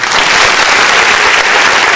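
Loud, continuous applause from a crowd at a local cricket premier league prize ceremony in Surat, greeting the man of the series with a dense, unbroken wash of clapping.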